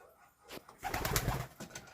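Racing pigeons cooing near their perch in a loft, a short burst of soft throaty coos up close, with faint rustling and no talk.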